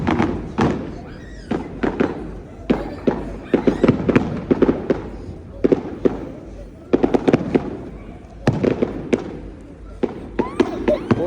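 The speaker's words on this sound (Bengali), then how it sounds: "এই যে অলরেডি শুরু হয়ে গেছে ফায়ার ওয়ার্ক।" Fireworks bursting at Southsea seafront in Portsmouth, a string of sharp booms and cracks arriving in irregular bursts, fairly close, with crowd noise and voices talking over them.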